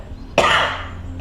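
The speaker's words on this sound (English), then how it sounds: "Or how about a little cough?" A single short cough from one person, sharp and close, followed by a brief fading rasp in a quiet setting.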